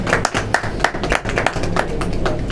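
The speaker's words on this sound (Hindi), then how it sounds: "जोरदार ताली बजा दीजिए इसके लिए।" Audience clapping at a live stage entertainment event, a few people applauding with distinct, fairly close hand claps in an uneven rhythm over a low background hum.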